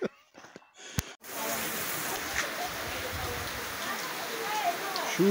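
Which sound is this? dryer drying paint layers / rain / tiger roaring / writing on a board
rain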